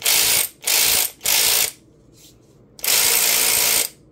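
A WorkPro cordless ratchet spins in three short clattering bursts followed by a longer run, its pawl rattling loudly and close with brief quiet gaps between.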